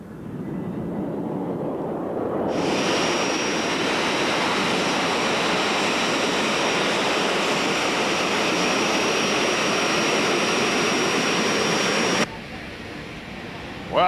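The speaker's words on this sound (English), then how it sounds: "Now we've come to a busy airport where we're going to see some much larger jet airplanes" A steady, loud roar of large jet airliner engines at a busy airport near Los Angeles fills the air with a constant high whine on top.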